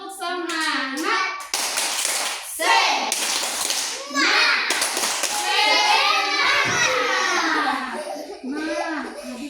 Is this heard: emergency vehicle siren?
no